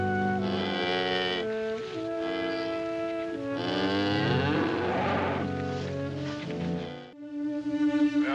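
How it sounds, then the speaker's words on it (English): Cattle let out several long, loud, drawn-out moos one after another outdoors on a farm, the calls overlapping with no talking. "What are my cows doing out there?"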